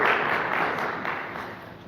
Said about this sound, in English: So let's give them a round of applause for being with us.